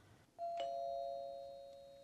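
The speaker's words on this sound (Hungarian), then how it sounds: "Miért nem szállsz ki a kocsiból, csengetsz, és jössz be Hilleryért" A doorbell rings once inside a house during a sitcom scene. The single chime sounds clearly, and its tone hangs and slowly fades over a low room background with no talking.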